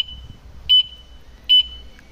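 A Jet-X 125 motorcycle alarm gives two short, sharp electronic beeps, evenly spaced, each marking a sensitivity level, with a faint steady tone between them and no talking.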